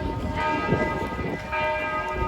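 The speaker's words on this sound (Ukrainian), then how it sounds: "дзвонять дзвони, скликають на молитву." Church bells ringing with sustained, overlapping tones amid a busy outdoor background on an old street in Ljubljana, Slovenia.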